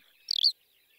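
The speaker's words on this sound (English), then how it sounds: "if a skylark is about to sing, you might just hear that little chirp" A single short, high chirp from a skylark at the edge of a field, heard alone against near silence, a brief fluttering call lasting about a quarter of a second.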